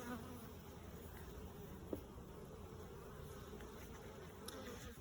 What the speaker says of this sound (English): I see quite a few bees inside.